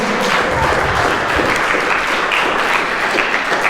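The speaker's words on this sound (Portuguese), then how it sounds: "Bate as palmas para o Senhor." A church congregation claps hands together in sustained, dense applause, loud and close, holding steady with no pauses.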